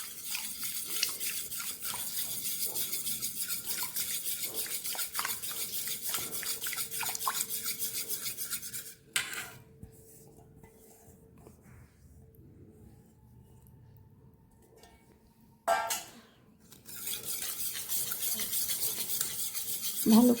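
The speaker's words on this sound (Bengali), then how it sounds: "যখন ঠান্ডা হয়ে যাবে তখন আমি এই মিশ্রণের মধ্যে আস্তে আস্তে ঢেলে দেব এবং বিট করে নেব।" Sugar caramel being beaten into the batter for a Christmas dry fruit cake: steady, soft scraping and whisking strokes, paused for a few seconds midway, then resuming, fairly faint and close.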